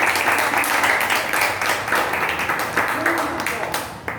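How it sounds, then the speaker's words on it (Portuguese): A children's church group applauds, a steady burst of many small hands clapping at close range for about four seconds, with voices mixed into it. "uma salva de palmas"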